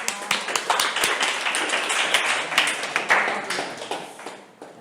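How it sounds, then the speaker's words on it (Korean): An audience at a lecture clapping for a student, many hands beating in a lively, uneven patter that rises quickly and then tapers off toward the end. "그래서 우리 프로페셔널 정윤영 군에게 박수 한번 주시죠."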